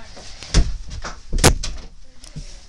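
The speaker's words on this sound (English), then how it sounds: "Can you shut the door?" A door in a caravan bedroom is pushed shut with a couple of solid knocks and a sharper thud, close by, with a little rustling and no talk.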